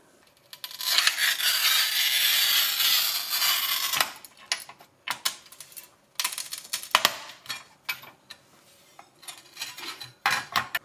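A Parkside 400mm manual tile cutter scores and snaps tiles, with a harsh grinding scrape for a few seconds followed by a string of sharp clicks and knocks, close and fairly loud.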